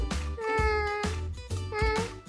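A cat meows three times in succession, close and clear, each call a drawn-out tonal wail with no talking over it.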